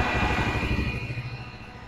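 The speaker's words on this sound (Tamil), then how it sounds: "பார்த்தீங்கன்னா இன்ஜின் ரன்னிங்கில் இருக்குது." A Hero Passion Pro motorcycle engine runs close by during wiring work with the ignition key off, its low rhythmic idle chug steady at first and then easing slightly, with no voices.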